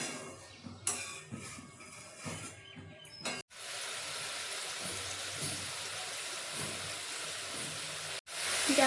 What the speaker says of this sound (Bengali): দেখো এই মশলাটা এবার ফুটে এসেছে